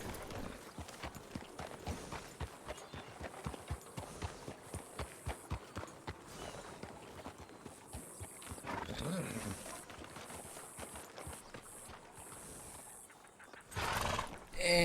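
Horses ride along in a role-play video game, their hooves clip-clopping in a steady, quick rhythm for several seconds, then fading into a softer jumble with a brief whinny-like sound and a louder burst at the end.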